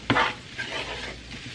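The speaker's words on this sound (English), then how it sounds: "Stir that in. That's about 3 tablespoons of flour." Flour being stirred into a hot, sizzling pan for smothered cube steak, with a sharp scrape at the start and then a softer frying crackle under the stirring.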